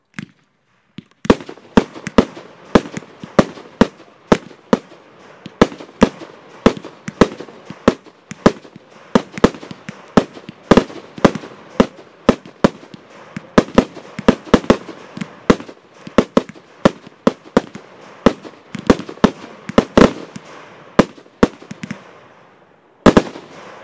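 A 25-shot firework cake, the Immortal Wall, fires a long run of sharp bursts, loud cracking shots in quick irregular succession before stopping.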